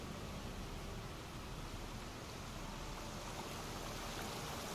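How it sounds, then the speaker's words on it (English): Small creek in Baldur's Gate 3 running steadily as a broad, even wash of flowing water, constant and fairly loud with no breaks or voices. "Let's go across this little creek here."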